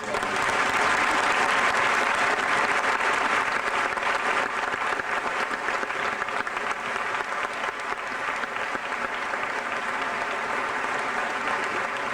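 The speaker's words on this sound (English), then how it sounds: "would you all join me in applause" A graduation ceremony audience applauds in a long, full wash of clapping, loud at first and easing slightly as it continues, with no voices over it.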